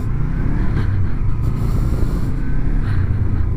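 A beginner's motorcycle ridden on a Swiss road in second gear gives a steady, loud engine drone with wind rumble, holding an even tone throughout with no clear gear change.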